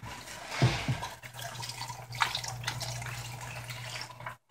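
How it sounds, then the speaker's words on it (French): Water pours into a pot of vegetables for Senegalese thieboudienne, a continuous splashing gush over a low steady hum from the stove, fading out at the end. "Puis maintenant, je peux ajouter l'eau."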